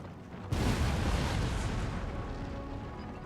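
Artillery battery opening fire in the Napoleon: Total War video game with the Darthmod mod: a sudden loud boom after a short lull, followed by a sustained rumbling roll of cannon fire that slowly tapers off.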